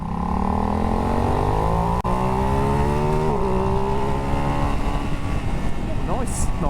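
A GasGas 700 motorcycle pulls hard from a standing start, its engine note climbing steadily through the revs as it accelerates, loud and continuous throughout.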